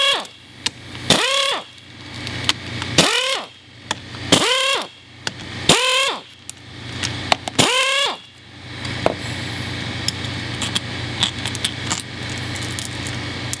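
A ratchet with a half-inch-drive 13 mm socket turns bolts out of the backhead of an SD-series automotive AC compressor, in several loud, separate bursts of clicking with gaps between them, followed by quieter handling noise.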